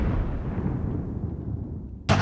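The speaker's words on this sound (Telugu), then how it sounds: "మొత్తానికైతే బాంబు అక్కడ పేలింది" A bomb blast effect in a Telugu TV comedy skit: a loud boom whose rumble fills the clip and slowly decays, followed by a sharp second burst at the very end, with no talking.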